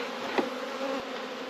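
A swarm of honeybees hums around an opened hive at the first check of the season, a close steady buzz with one brief louder bee passing near.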